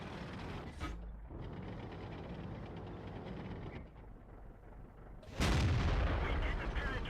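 Tank cannon fire in World of Tanks on the Sand River map, with a Type 59 engine rumbling under loud booming shots and a heavy blast near the end.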